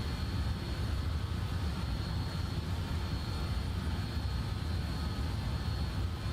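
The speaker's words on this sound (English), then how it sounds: "Can I just mention, this aircraft sounds so good." Steady drone of BAe146 jet engines in a flight simulator game, a continuous low rumble with broadband hiss holding even and unbroken, with no voices.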